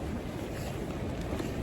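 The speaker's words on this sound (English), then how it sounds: "My goodness, it's windy." Strong, blustery wind roars steadily against the microphone on a mountain trail along the Appalachian Trail, a continuous close rumble with no voices.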